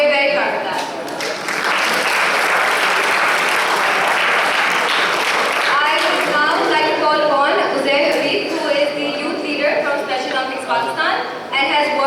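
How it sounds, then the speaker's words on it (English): A large audience at a ceremony gives a sustained burst of loud applause that rises then thins out, with a voice speaking over the tail end. "give a huge round of applause"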